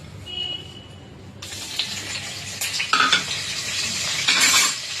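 Curry leaves drop into hot oil with asafoetida and burst into a loud, crackling sizzle that stays steady, with a few spoon scrapes and stirs partway through and no talking.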